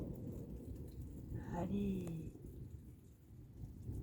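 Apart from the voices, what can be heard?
thunderstorm with thunder and rain heard through open window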